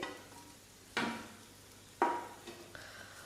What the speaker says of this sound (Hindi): और आलू को हम 10 से 15 सेकंड अच्छे से भूनेंगे ताकि आलू की जितनी भी नमी है वो ख़त्म हो जाए